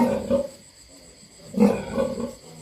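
A boar grunts and growls in low, rough bursts near a sow being checked for heat, two short vocal pulses separated by a quieter moment, close by.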